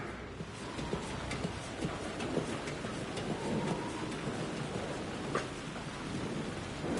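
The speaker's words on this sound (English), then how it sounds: "The rain never stopped falling." Heavy rain pours steadily in the horror game Alan Wake 2, a dense, constant hiss with faint low rumbles of distant thunder and occasional sharper drips rising out of it.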